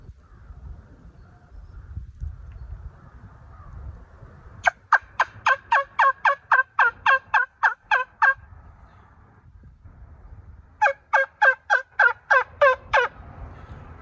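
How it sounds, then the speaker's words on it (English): Custom primitive turkey call made from deer tine and bone, played by sucking air: two runs of rapid, sharp yelping clucks, about a dozen each, separated by a pause, loud and close over faint background rumble. "you use this by sucking in air, basically puckering your lips together and making a kissy sound."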